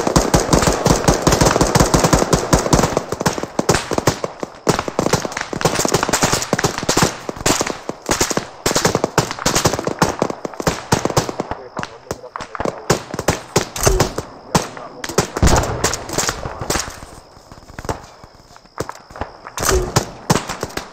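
Rapid automatic gunfire crackles almost nonstop in ArmA3 during a military firefight, loud close bursts overlapping with more distant shots, thinning briefly in the middle before firing resumes.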